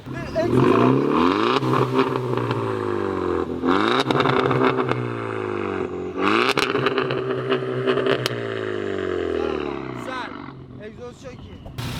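Volkswagen Scirocco 1.4 TSI coupe engine revving hard in repeated rising and falling sweeps, loud and close over twelve seconds, with a brief talking voice near the end.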